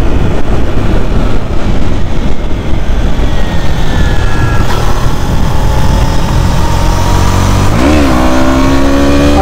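A 2019 KTM Duke 125 motorcycle accelerating on a road: loud, dense engine and wind roar throughout, with rising tones as it climbs through the revs and a gear change near the end, recorded close.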